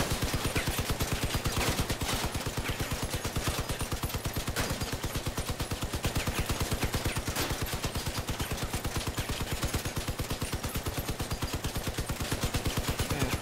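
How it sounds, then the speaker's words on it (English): Rapid machine-gun fire in the vehicle combat game Crossout, with bullets battering an armored vehicle: a loud, unbroken stream of evenly spaced shots and impacts, driving on without pause and with no talk over it. "Yep, this is taking a lot of bullets."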